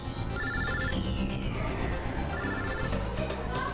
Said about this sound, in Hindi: एक मिनट अभिजीत का फोन।